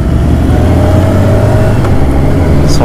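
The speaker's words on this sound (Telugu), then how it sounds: "సూపర్ బైక్ సౌండ్సే అసలు" Superbikes on a group breakfast ride, including a Kawasaki ZX9R fitted with an IXIL exhaust, roar loudly and continuously nearby, with one engine's tone climbing as it revs; no one speaks.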